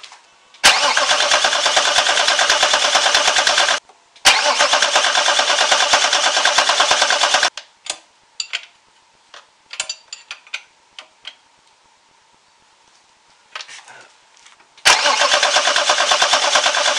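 A BMW 525 tds E39 diesel engine being cranked and started after injector work: long loud broadband cranking bursts, then sparse clicks and ticks in near silence, and a final loud burst of cranking close up.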